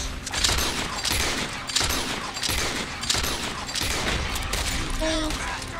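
Gunfire in Red Dead Redemption 2 during a chaotic fight, several loud shots and bursts spread through the scene, mixed with game noise and people talking over it.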